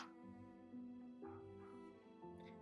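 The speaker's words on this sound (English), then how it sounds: "I'll just let the dogs finish barking in the garden." Dogs barking and whimpering in a garden, a steady run of yelps and whines that continues at a moderate level for the whole stretch, with no talking.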